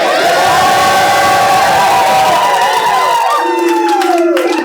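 A live crowd at a rap battle event roars and shouts loudly and continuously, with whoops rising over a dense wall of cheering that fades slightly toward the end.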